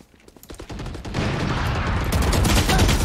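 Gunfire in Valorant on the Ascent map, with a burst of rapid shots that swells into dense, loud, continuous firing.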